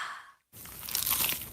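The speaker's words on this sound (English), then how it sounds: "Is that the sound of an ooey gooey, cheesy, crunchy slice of P-I-Z-Z-A?" Someone bites into a crunchy, cheesy pizza slice, a single close crisp crunch after a brief silence, followed by a short burst of crackling chewing.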